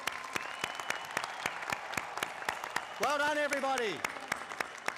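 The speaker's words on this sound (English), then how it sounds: "One more round of applause for all of our graduates." Graduates at a 2022 university graduation ceremony receive a dense round of applause, sustained claps throughout with a voice speaking over it and singing briefly rising loud near the end.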